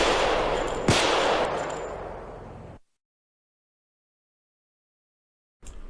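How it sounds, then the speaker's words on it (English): A loud burst of sharp 9mm pistol shots fires in quick succession, then cuts to silence before another brief blast returns at the end. "This is the sound of a 9mm."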